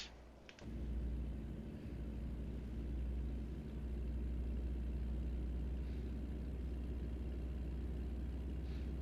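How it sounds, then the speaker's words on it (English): A low, steady engine drone rumbles from a line of trucks in a video game, continuous and fairly quiet, with a brief click at the start and no talking. "You can just see the line of trucks behind me as I go forward with my truck."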